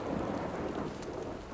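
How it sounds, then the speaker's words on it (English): A thunderstorm in a cartoon: steady, loud rumbling thunder over dense rain noise, continuous through the whole moment with no talking. "We don't like thunder either."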